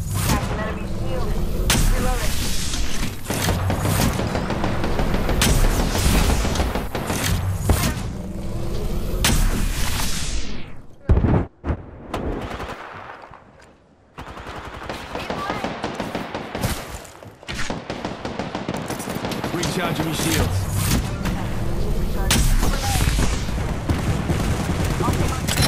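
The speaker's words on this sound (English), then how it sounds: "They're shooting at me." Gunfire in the Apex Legends video game, dense loud bursts of shots and booms filling most of the stretch with a brief quieter lull midway, while players talk over it.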